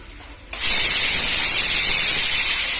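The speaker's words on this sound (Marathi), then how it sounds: "कुकरच्या आता चार शिट्ट्या झालेल्या आहेत" A loud steady hiss of escaping steam from a pressure cooker whistle, cooking pav bhaji, starts abruptly after a moment of quieter background and holds without a break.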